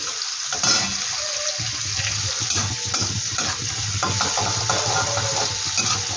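Medium chopped onion dropped into a hot pan for cauliflower chilli, frying with a steady loud sizzle while a spoon stirs and scrapes through it, close and continuous, no voices.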